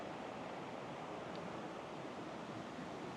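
Goforth Creek in the Cherokee National Forest flows in a steady broadband rush of water, continuous and fairly loud with no breaks or voices.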